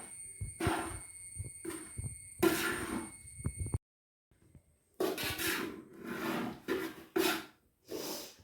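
A spoon or spatula stirs grated coconut for chammanthi podi as it roasts in a pan, giving close scraping and rasping strokes in uneven bursts, interrupted by a brief silent gap.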